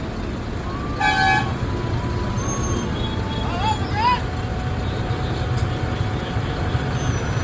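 A departing bus sounds several short horn toots over a steady low engine rumble, with voices talking nearby.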